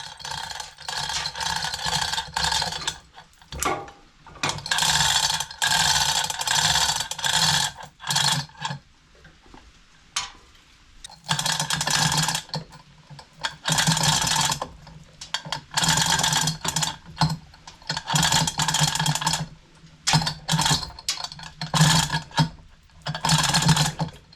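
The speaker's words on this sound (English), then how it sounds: "I used the chain hoist." A chain hoist lifts a Jet JWBS-15-3 bandsaw off a pallet, with long runs of loud, close ratcheting and rattling chain clatter broken by brief pauses.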